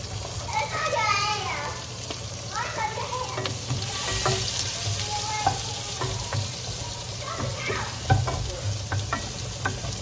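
Garlic, onion and ginger sauté in a pan with a continuous close sizzle and a few stirring knocks, while children's voices and chatter carry on in the background.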